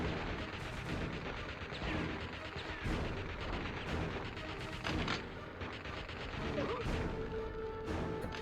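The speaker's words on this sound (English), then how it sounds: "These submachine guns suck." Gunfire in the Dead to Rights video game, dense, continuous bursts of shots and impacts filling the whole stretch, with no pause and no voices over the game audio.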